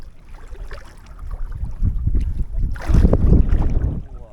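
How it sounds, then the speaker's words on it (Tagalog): Strong southwest monsoon wind buffeting a small fishing boat at sea during handline fishing, a steady rushing roar that swells louder toward the end with gusty wind noise on the microphone. "Ito habagat na talaga makauno."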